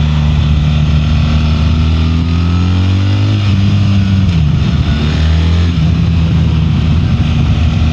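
BMW R1300 GS motorcycle engine under way, a loud close drone whose pitch climbs, drops with a gear change and rises again, with wind noise throughout.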